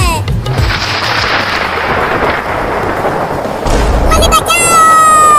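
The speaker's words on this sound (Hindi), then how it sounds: "देखो कितना बादल गरज रहा है।" Deep rolling rumbles of thunder, loud and close, over steady rain, with a sharp crack near the end.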